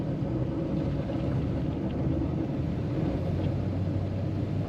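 A 1963 Studebaker Gran Turismo Hawk on the road, heard as a steady, loud low rumble of engine and road noise with no talking.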